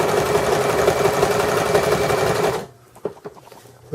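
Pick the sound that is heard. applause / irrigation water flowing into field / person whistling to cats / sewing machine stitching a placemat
sewing machine stitching a placemat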